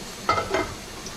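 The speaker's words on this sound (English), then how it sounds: "You can already hear it sizzling." Food sizzles in a pan with a couple of brief stirring bursts, close by over a steady hiss; no one speaks.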